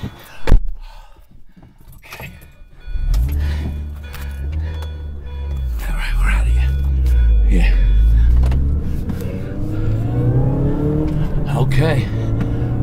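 A car engine starts and pulls away, its low rumble building and holding steady under a short jangle of keys, while people talk nearby.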